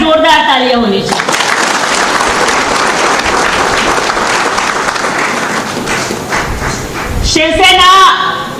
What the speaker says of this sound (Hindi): इनके लिए एक बार जोरदार तालियां होनी चाहिए